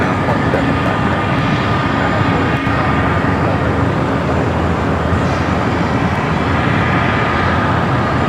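A Boeing 777 at Los Angeles International Airport, a loud continuous roar of jet engines and broadband rumble filling the whole stretch, steady and close with no pauses.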